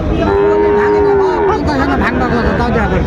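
A cow lets out a long, drawn-out moo over a busy crowd murmur at a cattle market in Dinajpur selling Sahiwal bulls and calves, with more lowing and chatter following.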